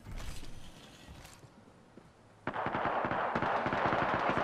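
Rapid automatic gunfire in the battle royale game Apex Legends, a quiet mechanical stretch giving way to a loud, sustained burst of close shots from the midpoint onward, with no talk.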